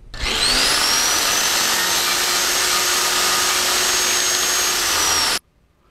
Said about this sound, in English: A short encounter with the angle grinder speeds things up.